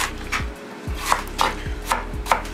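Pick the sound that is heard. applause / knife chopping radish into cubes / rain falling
knife chopping radish into cubes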